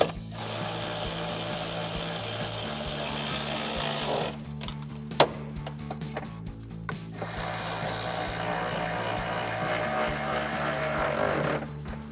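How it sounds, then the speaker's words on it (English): Ratchet with a 10mm socket tightening side step bar bolts on a Jeep Gladiator JT, steady clicking ratchet strokes in long runs broken by a short pause and a sharp knock, close and loud. "we're going to tighten them down with a 10mm socket and a ratchet"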